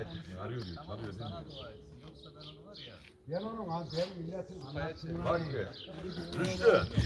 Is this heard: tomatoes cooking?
no